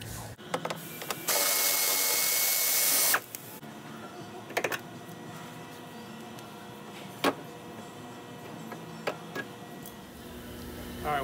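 A power tool whirs steadily for a couple of seconds while removing a screw from the rear bumper of a 2017 Toyota Camry, followed by scattered clicks and light handling knocks.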